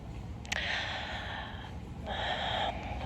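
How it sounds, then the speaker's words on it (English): Slow, audible Ujjayi breaths during a yoga session: two long, hissing breaths, close and soft, each held steadily before fading, with no talking. "Walking here, breathing Ujjayi."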